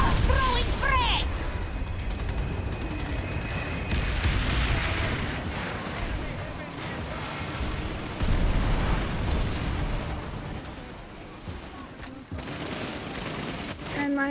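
Frag grenade blast in PlanetSide 2 amid a busy battlefield, heavy booming and bursts layered over continuous gunfire and mechanical noise, with voices talking through the chaos.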